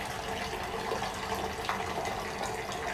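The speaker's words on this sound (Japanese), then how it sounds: "こっちでもこう泡がブクブクと" Hot spring source water at Kusatsu bubbles up from the ground in a lit-up outdoor spring. A soft, continuous gurgling and fizzing wash sits at low level with no talk.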